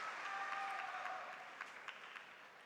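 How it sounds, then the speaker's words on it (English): A crowd applauds at the ITTF World Tour Polish Open 2015 table tennis semifinal, a dense steady clapping from a large indoor audience, a few sharper claps standing out as it slowly fades. "The sound all coming from the crowd right now"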